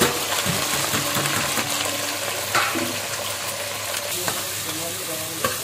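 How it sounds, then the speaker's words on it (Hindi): Onion and chili tossed into garlic already browned red in a big pot of hot oil, cooking for matar paneer in a Dubai workers' kitchen. A loud, dense, steady sizzle runs throughout with clinks of metal. "इसमें डालते हैं प्याज और मिर्च"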